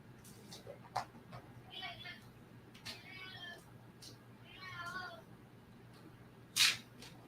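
A hungry house cat meows a few times at close range, short drawn-out calls spaced over several seconds amid quiet room noise and a sharp click near the end.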